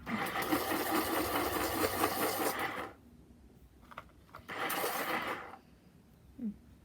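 A pencil sharpener grinds a brown coloring pencil in two bursts, a long buzzing whir of about three seconds, then a pause and a shorter second run, close and fairly loud.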